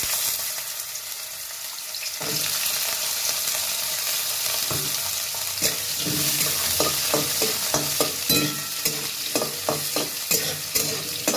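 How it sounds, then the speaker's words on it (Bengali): Carrots frying in a pan on a steady sizzle, with a spatula scraping and stirring in quick irregular strokes that grow busier toward the end. "এক এক করে সবজিগুলো আমি ভেজে নেবো"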